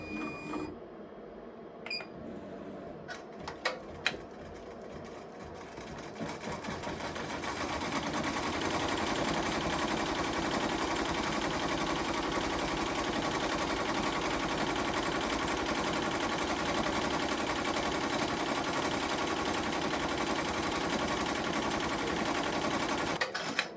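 A sewing machine stitching a stipple pattern on a fabric mug rug: a few faint handling clicks, then a steady, fast mechanical whirring and chatter that runs continuously and loudly close by.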